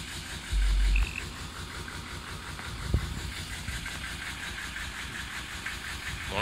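An old Detroit diesel engine idles roughly on six of eight cylinders in -22°C cold, a steady loud hiss-laden rumble with a brief louder burst early on and a sharp knock near the middle.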